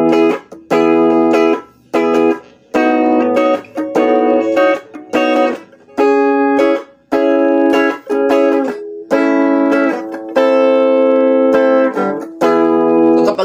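Clean electric guitar played through a Mooer Yellow Compressor pedal, strummed chords and short phrases ringing out with brief gaps between them, evenly compressed and loud with no talking.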